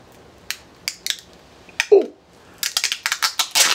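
Scissors snip through tape on a package of anti-static gear, with several sharp close cuts and rustling clicks in quick succession, a softer crinkle in the middle.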